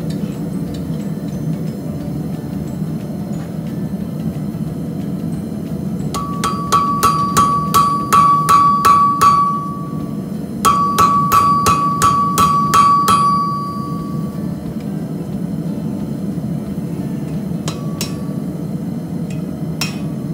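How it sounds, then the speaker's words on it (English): Heated steel from a trap spring hammered into a rough knife blade shape: two bursts of sharp, ringing metallic strikes in a steady rhythm, close and loud over a constant low forge roar, then a few isolated blows. "I am going to heat this up and do my best to pound out a general blade shape"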